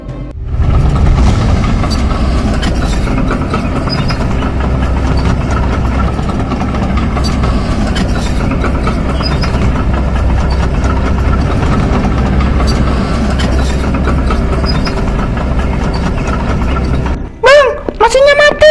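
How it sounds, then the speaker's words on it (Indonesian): A generator or machine engine runs loud and steady with a low rumbling idle for most of the stretch, then abruptly cuts out near the end as it stalls by itself, followed by brief rattling. "Mesinnya mati sendiri, padahal baru dipanasin."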